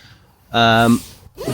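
A single tent door zipper pulled in one smooth, quick stroke, loud and close, followed by a brief soft breath or rustle.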